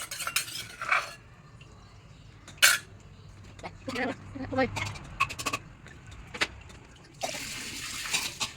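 Cutlery and a pot clink as chilies go into a pot of snakehead fish soup with lime, scattered sharp metallic knocks and scrapes in bursts, with quiet kitchen background and some talking nearby.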